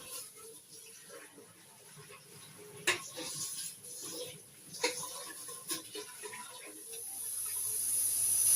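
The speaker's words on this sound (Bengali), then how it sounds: "টাইগারের চালটাই ধুয়ে নিচ্ছি" Rice is rinsed in a pot of water with soft sloshing and a few sharp clinks against the pot, faint and close, with quiet background noise and no clear speech.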